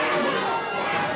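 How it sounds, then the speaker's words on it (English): Wrestling crowd at an NHW Aces High 24 show, a brief burst of mixed crowd noise with murmuring and scattered voices, dense and steady. "Listen to the crowd. Nobody's happy about it."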